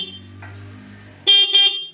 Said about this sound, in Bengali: আমাদের হর্নটার সুইচটা চাপলে হর্নটা বাজছে